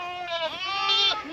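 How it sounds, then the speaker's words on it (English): A single goat on a farm gives a wavering, nasal bleat lasting about a second, close and clear with no other sounds. "But goats are a lot different than working cattle."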